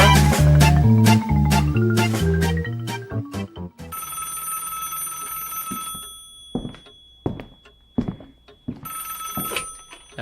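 A telephone rings in rapid repeated trills that fade, followed by a sustained electronic tone and scattered clicks and knocks, close and fairly loud without speech.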